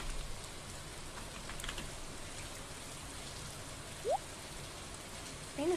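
Rain falls in the Stardew Valley video game as a soft, constant patter spread across the whole stretch, with a couple of brief tonal game blips near the end.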